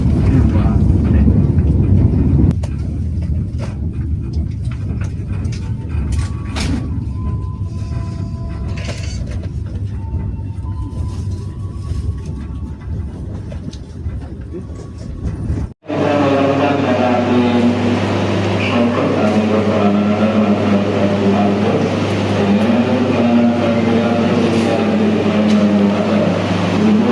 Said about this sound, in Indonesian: Ini adalah kedatangan kereta api.